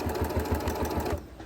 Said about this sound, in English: usually I'm always sewing on my industrial sewing machine